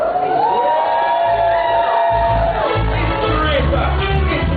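Crowd at a live dub poetry performance shouting, whooping and cheering loudly and continuously, with voices rising over a low rumble of noise throughout.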